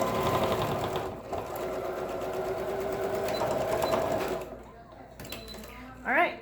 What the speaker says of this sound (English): that is the end of the actual sewing that you have to do for this